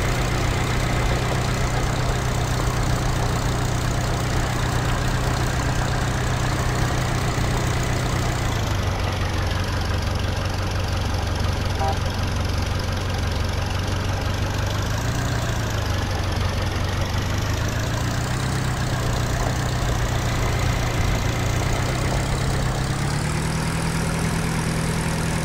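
Tractor engine idling in the Farming Simulator 2013 video game, a continuous droning hum that stays loud and close, holding steady with slight shifts in pitch and no talking.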